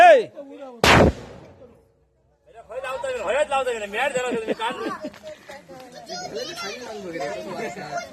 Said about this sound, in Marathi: पाण्यामध्ये अटम बॉम्ब लावताना